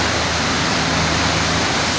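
Cheeyapara waterfall in Idukki rushes over black rocks, a loud, steady, close roar of falling water filling the whole clip without a break.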